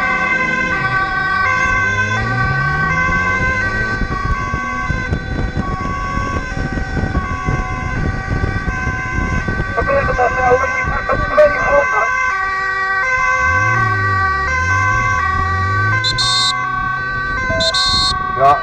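An ambulance siren wails loudly and close by on an emergency run from The Hague to Rotterdam, its tone rising and falling in sweeps over road and heavy traffic noise.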